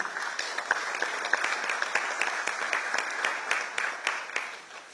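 An audience at an African Youth Day celebration applauds the Republic of Congo, a steady wash of many clapping hands with distinct individual claps standing out, lasting the whole stretch with no talk over it.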